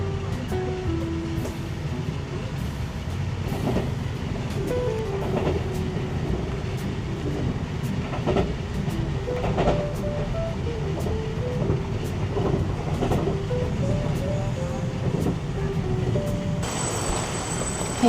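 A train in Taiwan rumbles steadily at moderate distance, with a low continuous roar, a faint rhythmic clatter and a tonal squeal, and a short high whine near the end.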